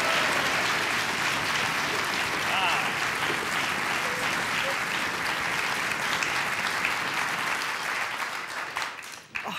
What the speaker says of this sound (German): Und Applaus,